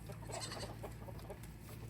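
Quiet, soft clucking from nearby chickens on a Vermont homestead over a steady low background hum.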